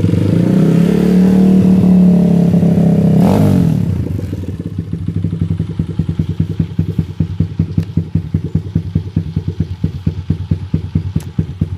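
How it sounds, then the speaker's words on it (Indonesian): Loud idle of a motorcycle with a racing exhaust being warmed up, first a raised rev held for a few seconds, then dropping to a rapid, lumpy popping idle that pulses evenly to the end. "Panasin motor dulu,"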